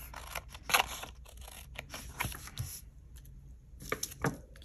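Scissors snip through paper and sticker sheets while a mini Happy Planner spread is being decorated, a few short, crisp cuts at close range with brief quiet gaps between them.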